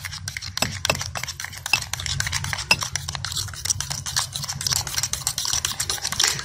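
A small spoon stirs four spoonfuls of sugar into a cup of water in a coffee cup, ringing with rapid, steady clinks against the porcelain throughout, close and fairly loud with no one talking.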